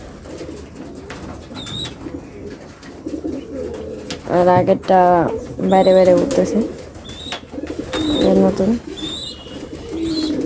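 An Australian dove coos in a pigeon loft, repeated close throaty calls with a few sharp chirps from other birds, while someone speaks briefly near the end.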